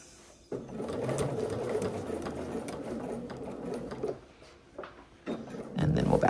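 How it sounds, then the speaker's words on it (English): Domestic sewing machine stitching a seam on Vinton pants, starting after a brief pause, running steadily for several seconds, then short bursts of stitching with stops, close and fairly quiet, with a person talking between runs. "And then we're going to sew back to where we're ending, right where this line intersects with this one."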